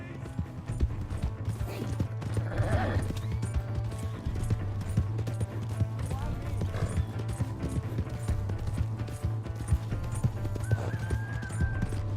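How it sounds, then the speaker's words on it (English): A horse galloping in Red Dead Redemption 2: a rapid, steady clip-clop of hooves throughout, with a neigh and game sounds mixed in, under occasional voices. "Hey, that's my horse!"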